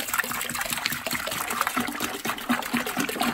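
A copper fire extinguisher lowered into a bucket of vinegar, producing close sloshing, gurgling and splashing of liquid being displaced, fairly loud with irregular pulses.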